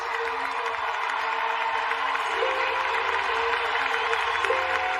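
Stadium crowd at a track and field meet cheers and applauds the defending world champion, a steady broad roar holding at an even level throughout, with a faint tonal hum running underneath.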